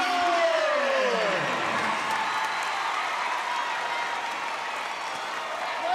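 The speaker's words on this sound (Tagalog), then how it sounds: "Listen to this crowd roar!" A packed volleyball arena crowd roars and applauds continuously at a PVL Invitational Conference match between Chery Tiggo and PLDT Home Fibr, a dense, loud wash of cheering throughout, with a descending whistle-like tone in the opening moments.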